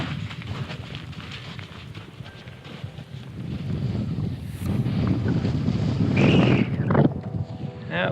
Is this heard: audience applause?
no